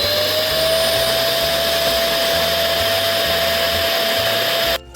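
MONSGA MR7 PRO robot vacuum's self-emptying dock sucking debris into its 4-liter dust bag, a loud continuous vacuum roar with a steady high whine, alone until it stops abruptly at the end.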